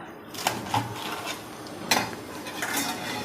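Bathua (beto) greens are cut into large pieces on a board in a home kitchen: a few sharp knife chops at a steady, unhurried rhythm, close and clear against quiet background clatter, with no talking.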